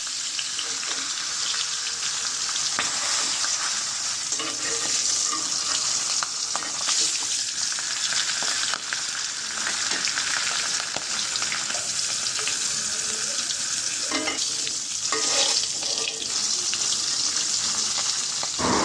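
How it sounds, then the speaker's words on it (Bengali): Rohu fish pieces frying in a pan over medium heat, giving a dense, steady sizzle that carries on unbroken, with occasional soft clinks and stirring sounds. Close up, with no voices. "মাছগুলো ভালোভাবে ভেজে নিতে হবে"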